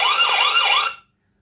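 A V380 security camera app sounds its alarm: a loud, shrill, warbling electronic siren tone rising and falling about twice in one second before cutting off abruptly, heard alone.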